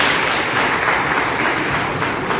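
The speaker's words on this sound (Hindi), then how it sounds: "एक बार जोरदार तालियां इसके लिए।" A crowd at a Hindi cultural evening honouring the Uttarakhand folk singer Hira Singh Rana breaks into loud, dense, sustained clapping for a book, filling the hall without pause.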